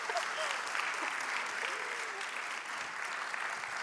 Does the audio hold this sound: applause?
yes